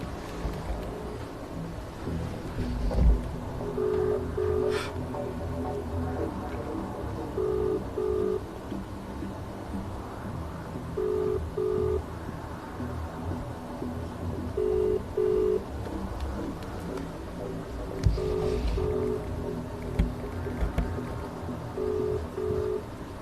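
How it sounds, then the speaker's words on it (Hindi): A phone call rings out over a speakerphone, with paired ringback tones repeating at regular intervals, six times in all, over a low background hum. "मैं कॉल लगा रहा हूँ आपके सामने।"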